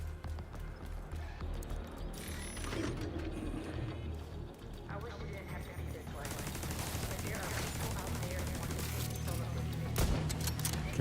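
Repeated bursts of player gunfire in The Division 2 shooter game, rapid cracking volleys that grow denser and louder toward the end amid other in-game noise.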